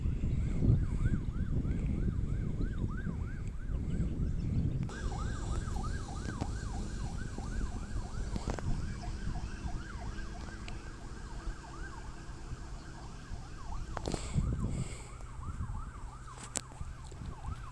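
A wailing ambulance siren sweeps up and down repeatedly, fairly distant and faint, drifting past amid background traffic noise near a beach in Żółtańce, Chełm county, Poland.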